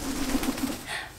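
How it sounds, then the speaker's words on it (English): A pet bird gives a short run of soft, repeated cooing calls at close range, then falls quiet. "everyone's favorite bird"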